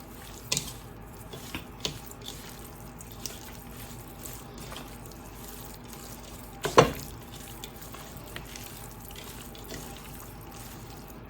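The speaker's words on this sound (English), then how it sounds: "we're going to get in here and we're going to mix this all up." Cajun chicken pieces being mixed with seasoning in a bowl, soft scattered wet squelches and light knocks with one louder bump, quiet and close with no talk.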